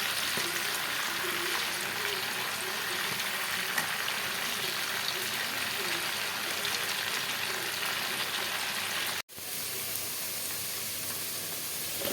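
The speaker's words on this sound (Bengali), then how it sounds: "মাংসটি দিয়ে দিতেছি।" Marinated meat fries in hot oil with a continuous, fairly loud sizzle that holds evenly for about twelve seconds, briefly cuts out, then carries on.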